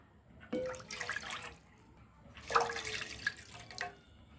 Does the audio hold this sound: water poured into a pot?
yes